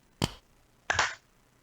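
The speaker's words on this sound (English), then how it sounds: "It'll be 1, 2, 3, clap, and that'll sync us." A single sharp hand clap marks the sync point at the start of a podcast recording. It is close and crisp, followed a moment later by a second, longer noisy burst in a quiet room.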